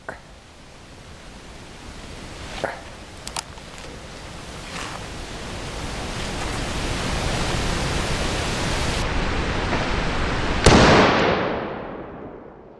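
A 180 grain Remington UMC bullet from an 8 3/8 inch .44 Magnum revolver striking a Level IIIA hybrid armor vest outdoors: one loud, close crack near the end, preceded by faint clicks and a rising wash of steady noise.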